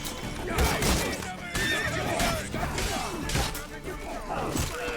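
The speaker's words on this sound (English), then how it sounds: "Horse, get out of my way!" A horse whinnies several times amid clattering hooves and crashing combat sounds in The Witcher 3: Blood and Wine, loud and close, with scattered background noise throughout.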